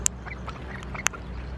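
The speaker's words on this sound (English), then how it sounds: "Yeah, even the ducks want to get in on it. Oh, what a cute noise." Two short, sharp duck quacks about a second apart, close by, over a low steady outdoor rumble.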